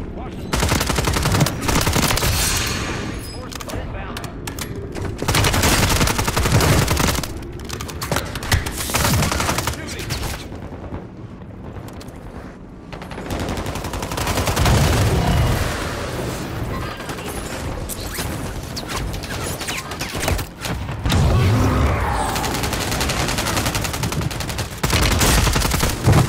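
Gunfire in Call of Duty Modern Warfare III, with dense bursts of automatic weapon fire and scattered single shots recurring across the clip, loud and close, broken by brief quieter gaps and some faint talk.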